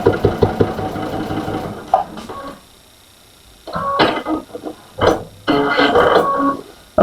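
A sewing machine runs in short bursts while stitching a star quilt at home, with a rapid close mechanical rattle that stops for a quiet pause and then starts again in two further runs.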